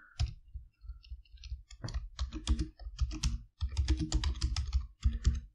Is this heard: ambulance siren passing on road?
no